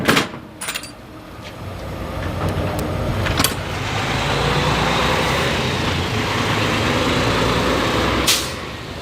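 A freight truck rolling along while hauling a load, its steady engine drone and road roar swelling and holding, with a few sharp clanks early on and a hiss-like burst near the end.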